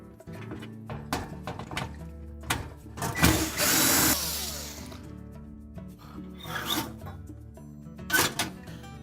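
Mounting screws being removed from the broil element of a Frigidaire oven, close-up clanks, rattles and scraping of metal parts in uneven bursts, with one longer grinding rub in the middle.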